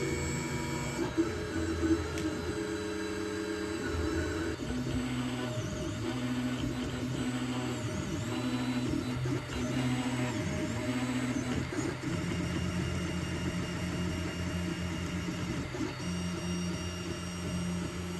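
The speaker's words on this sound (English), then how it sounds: "Now printer is start printing, and you could hear how loud it is. Especially the motors." An Anycubic Mega S 3D printer running a print, its stepper motors giving off a loud, steady electric whine with layered humming tones that shift pitch as the head moves, continuous and close throughout.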